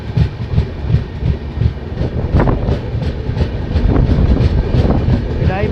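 Interior rumble of the New Delhi - Malda Town Express pulling slowly out of Raebareli station at dawn, steady low rolling noise with soft rhythmic clatter of wheels building gradually, heard from inside the coach.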